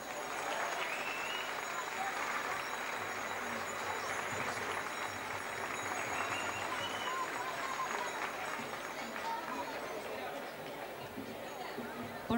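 An audience claps after a Jota de la Andariega folk dance performance in Extremadura, Spain, a sustained, fairly distant ripple of applause with chatter and voices mixed in throughout.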